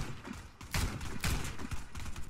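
Rapid gunfire from the Rhino gun in the shooter game Warface, loud, dense bursts of shots with heavy booming low end, close and continuous, with no talking over it.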